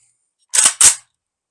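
Two sharp, loud AK rifle shots fired downrange in quick succession, close and dry, with silence before and after.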